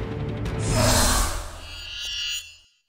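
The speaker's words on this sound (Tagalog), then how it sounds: "Rumaragasa ang tubig sa pababang bahaging yan ng kalsada sa Cebu City kahapon." Floodwater from heavy monsoon rain rushes down a sloping street in Cebu City, a loud, broad roar that swells, holds, then cuts off abruptly near the end.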